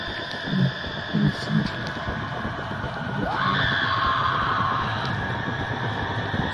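A woman screams in the horror video game Unforgiving: A Northern Hymn: one long, rising, wavering cry that holds steady over game ambience, after a few muffled vocal sounds.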